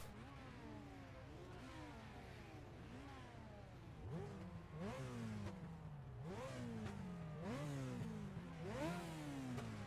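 A turbocharged pace car in a racing video game revs repeatedly, its engine note climbing and dropping in a steady series of up-and-down sweeps, close and fairly loud throughout with no talking.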